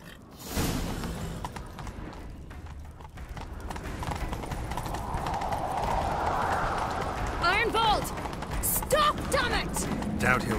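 Horse hooves gallop in the Witcher 3 game, a fast continuous clip-clop that builds under voiced dialogue, with a brief whinny-like sound near the end.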